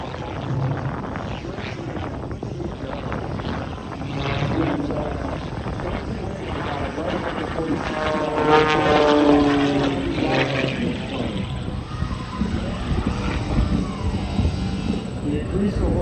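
A hot-rod style propeller plane at an airshow drones loudly with a rising, sweeping engine tone that peaks midway, mixed with crowd noise and people talking nearby.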